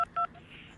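Two short, clear touch-tone beeps from a phone keypad sound close by as a number is dialed, followed by faint background murmur.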